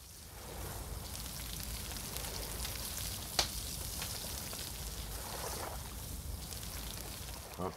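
Fish frying on a grill in the video game Stranded Deep, a steady, quiet crackling sizzle that runs throughout, with a brief sharp click partway through.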